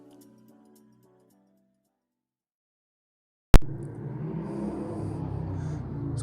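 A loud car or motorbike goes by after a sudden bang, its engine rumble rising and holding steady for the last few seconds.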